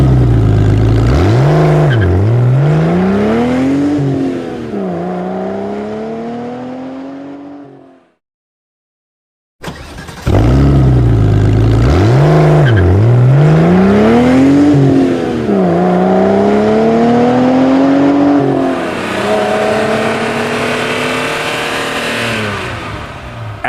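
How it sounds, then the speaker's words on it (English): A car engine from a sound effects library revs and drives past, with rising and falling pitch sweeps as it accelerates and shifts, loud and close. It cuts out briefly, then returns with more revving and passes. "Every effect of every car was meticulously digitally recorded by Sound Ideas' veteran audio engineering staff"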